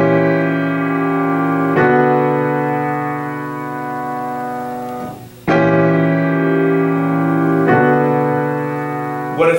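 A leading-tone seventh chord in a minor key, played as a sustained keyboard example: a few held chords, each struck cleanly and ringing before the next, loud and alone.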